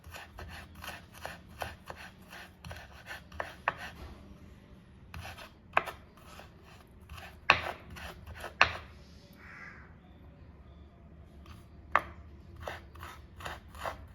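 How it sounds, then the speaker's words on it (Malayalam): A knife finely chops ginger quickly on a board in bursts of sharp, steady taps, with short pauses between runs and a crow cawing faintly in the distance. "അപ്പോൾ ഇതുപോലെ നമുക്ക് അരിഞ്ഞെടുക്കാം നമുക്ക് എല്ലാം ഇതുപോലെ ഒന്ന് കൊത്തിയെടുക്കാം"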